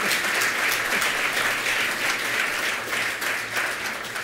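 Steady applause from a lecture audience welcoming architect Craig Dykers, dense clapping holding at an even level throughout with no speech over it.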